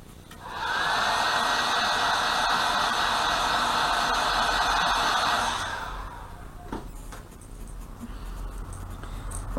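A steady blast of air dries a white paint layer on a stenciled fishing lure for about five seconds, then cuts off, leaving faint handling noises and a soft background hiss.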